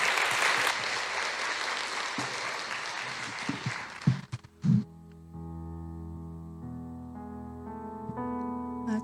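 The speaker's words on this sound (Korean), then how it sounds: "우리 크게 박수로 격려 한번 해주세요." Church congregation applauding during a Sunday service, a dense steady wash of clapping for the first four seconds, then breaking off into a few scattered sounds and a sustained keyboard tone.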